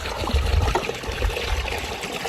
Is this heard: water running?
yes